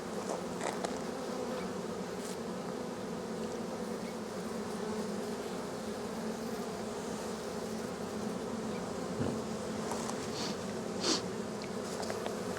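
A cage packed with honeybees gives off a constant thick buzzing drone, close and even, with a few faint knocks and brief rustles over the hum.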